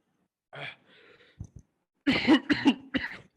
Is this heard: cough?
yes